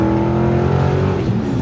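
Car on a racetrack, fitted with coilovers: a loud, steady engine drone heard from inside, its harmonics gliding slightly as the revs shift, with no pauses.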